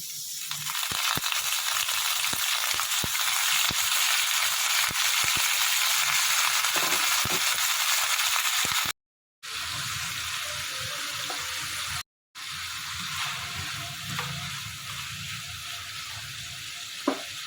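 Chicken pieces drop into a pan of browned onions and sizzle loudly and continuously, with brief dropouts and a wetter, bubbling fry after each break, and no voices heard.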